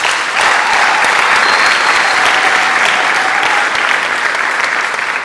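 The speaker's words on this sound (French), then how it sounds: "je vous demande une fois de plus d'applaudir" Steady, dense applause from an audience at a French-language public address honouring a city official in charge of urban policy; loud and continuous throughout with no talk over it.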